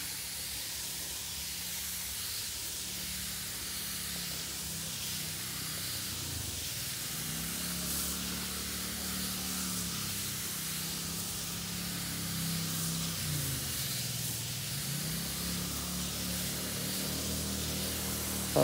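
A power sprayer mists beans in a garden with a steady, continuous hiss of pressurized spray and a low engine drone underneath, the sound staying fairly even through to the end.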